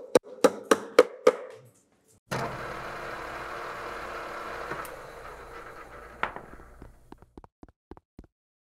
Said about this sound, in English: Just tap them in with a light hammer.